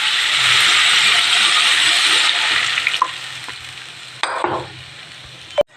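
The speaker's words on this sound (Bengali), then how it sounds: "এবার জল দিয়ে দিই।" Water splashes into a hot pan of sizzling masala of ginger, garlic, onion, green chili and tomato for a snakehead fish and potato curry; loud steady frying hiss fades, then a brief splashy burst and a sharp clatter near the end.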